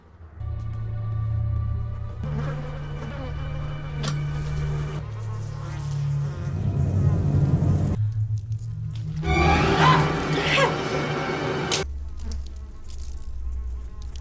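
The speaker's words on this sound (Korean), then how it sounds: "파리떼를 쫓아 지하실로 내려간 세라." A swarm of flies buzzes in a basement, a dense droning hum that swells and fades in sections, loud and close, mixed with film soundtrack textures and no clear talk.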